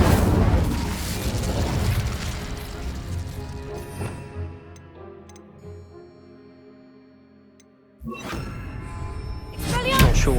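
In Hogwarts Legacy, an Incendio fire spell blasts a pile of debris, setting off a loud crashing explosion with shattering, tumbling rubble that fades over several seconds, then another heavy thud and rumble follows; a voice talks around it.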